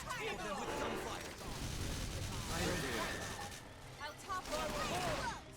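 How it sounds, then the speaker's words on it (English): Gunfire bursts in the video game Xenoblade Chronicles X, dense and continuous through the battle, mixed with combat effects, music and overlapping character voices calling out moves. "Just hit them with gunfire."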